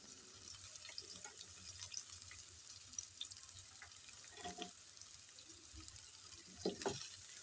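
Carrot, capsicum and cabbage frying in a pan for a hot and sour vegetable soup, a faint steady hiss with occasional soft clinks and stirring sounds, heard close but quiet and without voices.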